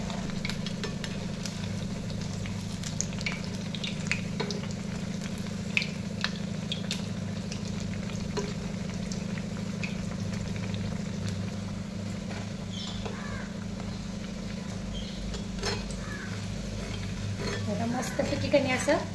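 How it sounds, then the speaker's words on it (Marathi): Kolhapuri-style vadas deep-frying in hot oil bubble with a continuous soft sizzle, punctuated by scattered clinks and scrapes of a utensil and a low steady hum underneath throughout. "आता कने वडे तळायला घ्यायचे."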